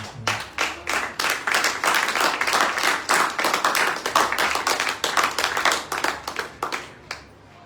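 A church congregation claps together in acclamation of Jesus Christ, a dense, steady run of loud hand claps for about seven seconds, the rhythm loosening before it stops near the end.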